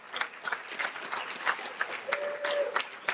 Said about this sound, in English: Let's give all these guys a big round of applause.